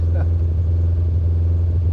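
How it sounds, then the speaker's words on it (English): A classic two-litre rally car engine on twin Weber carburettors idles steadily nearby, a loud continuous low rumble with a deep, even exhaust note and no spoken voices. "You can hear the twin Webers."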